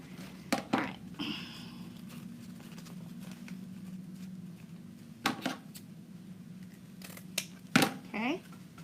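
Scissors snip ribbon into 12-inch lengths for a Christmas poinsettia swag wreath: several crisp, separate cuts spread across the clip over a steady low hum, with a person talking in between.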